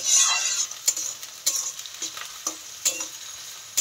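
Carrots and beans fry in a pan, a steady close sizzle broken by repeated scraping stirs of a spatula, with no talking.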